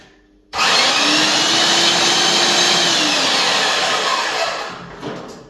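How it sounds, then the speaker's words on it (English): Erbauer airless paint sprayer switched on, starting abruptly after a quiet moment into a loud, steady, close whooshing motor drone that fades slightly near the end. "We switch on the paint sprayer"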